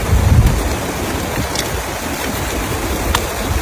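Rain falling at a fishing pond where tilapia are being caught, with a steady, loud, dense hiss of drops on water and surfaces and a low rumble at the start.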